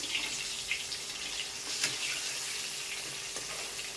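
A batch of hilsa fish frying in a pan of oil gives a steady, close sizzling hiss with a few soft clicks and pops, with no talking.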